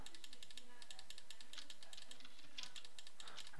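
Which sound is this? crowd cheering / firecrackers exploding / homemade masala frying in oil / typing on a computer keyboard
typing on a computer keyboard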